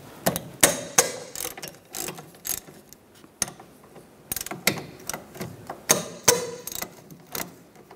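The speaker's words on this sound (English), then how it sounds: "Using a 13 millimeter socket, take the two caliper bolts off." Ratchet with a 13 mm socket loosening the two rear brake caliper bolts on a 2007-2010 Mini Cooper: repeated bursts of close, sharp clicking pawl ratchets in an uneven rhythm with short pauses between strokes.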